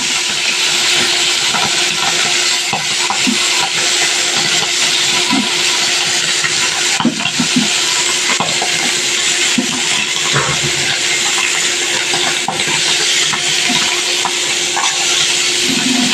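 Fish sizzles in hot mustard oil seasoned with turmeric, a loud, steady, close frying hiss with scattered spits and pops that runs unbroken throughout, with no talk.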